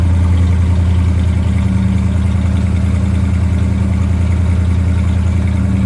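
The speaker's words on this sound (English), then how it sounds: "Listen to that nice little exhaust." A 1962 Ford Thunderbird Sports Roadster engine idles loudly through its exhaust, a deep steady rumble with a fast, even pulse and no change in pace.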